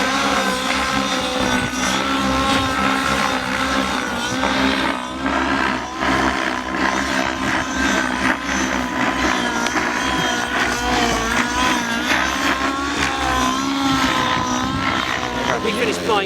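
An OS 105HZ R model glow engine running during setup and run-in, a loud, continuous high-pitched buzzing whine with steady harmonic drone and slight pitch wavers, with a voice talking over it.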